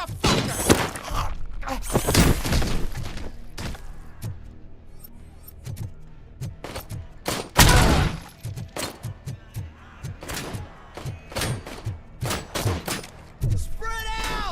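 Gunfire from the video game RoboCop: Rogue City comes as bursts of sharp shots, bullet impacts and thumps across the whole stretch, loud and close, with shouted voices mixed in.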